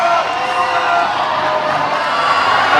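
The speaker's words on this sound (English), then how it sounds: "it's amazing the difference lifts can make when the crowd is loud" Loud, dense roar of a large crowd cheering and whooping at a strongman competition, sustained without a break throughout.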